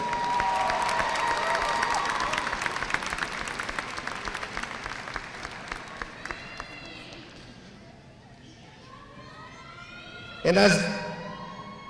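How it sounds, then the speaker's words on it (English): A high school graduation crowd applauds in a steady, dense patter of clapping that gradually thins out, followed by a brief burst of cheers and whoops near the end. "please give us our top scholar a big round of applause"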